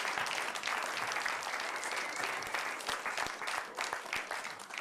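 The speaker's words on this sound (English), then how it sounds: "give him a round of applause" A studio audience applauds a guest, a steady wash of many hands clapping throughout, fairly faint and distant, with no clear talk over it.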